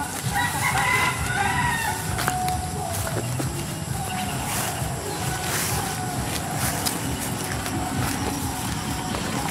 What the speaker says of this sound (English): Careful, hen.